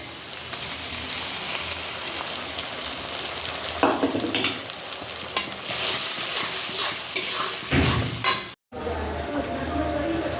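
A spice paste with water sizzles loudly in a pan for an egg poach curry, with steady frying hiss, scraping stirs and a few clinks of a utensil against the pan, then a brief break.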